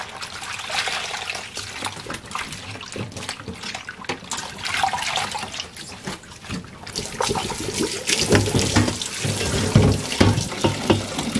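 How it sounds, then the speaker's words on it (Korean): Salted perilla leaves rinsed by hand under running tap water, splashing and trickling irregularly as they are handled, growing louder and busier toward the end; no one speaks. "그러면 깨끗하게 헹궈 보겠습니다."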